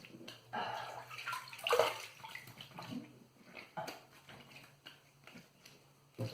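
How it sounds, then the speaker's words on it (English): Water runs and splashes from a tap while someone rinses off after a wet shave, a soft, uneven stream with light splashing close by. "Let's rinse off and go for a final cleanup pass."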